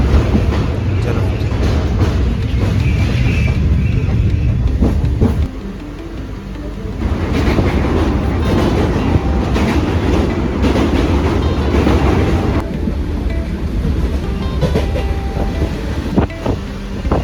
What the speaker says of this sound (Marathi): आजचा आमचा प्रवास याच ट्रेनने होणार आहे.